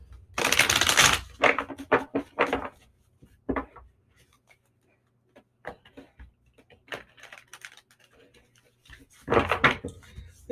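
Tarot cards shuffled quickly by hand in a brisk opening burst of riffling, then scattered lighter taps and flicks, ending with another loud flurry of shuffling, close and alone.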